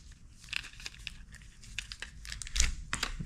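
Plastic bag crinkling during the unboxing of a Smoant Knight 40 vape kit, with close rustles and crackles scattered irregularly across the moment and a sharper crunch near the end, no talking.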